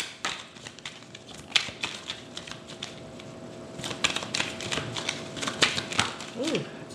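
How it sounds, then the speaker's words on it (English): Tarot cards are shuffled by hand in quick, irregular riffles and taps, close and fairly quiet, with occasional soft talk in between. "I'm going to shuffle a little more."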